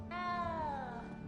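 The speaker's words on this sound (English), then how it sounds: "You don't need to be frightened, little cat." A little cat in the Hogwarts Legacy video game gives a single drawn-out meow, clear and close, its pitch sliding gradually downward over about a second against a low steady background hum.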